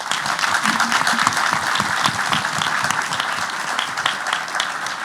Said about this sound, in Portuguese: Tem que aplaudir a Maria Eugênia